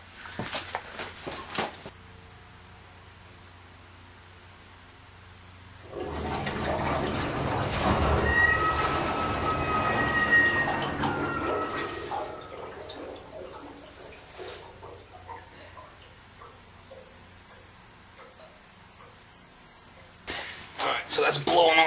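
A loud, steady rushing hiss of air blowing sludge out of a Burnham oil-fired boiler's oil line rises abruptly, holds for several seconds, then tapers off, with talk before and after.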